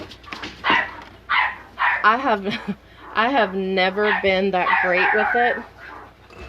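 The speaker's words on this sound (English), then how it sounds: "Excuse my dogs, you guys." Someone talks steadily while dogs bark in the background, short yips breaking through under her voice.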